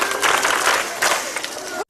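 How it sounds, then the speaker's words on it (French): Schoolchildren clap in a short burst of brisk, dense applause that fills the whole moment and stops abruptly at the end. "On applaudit pour elle."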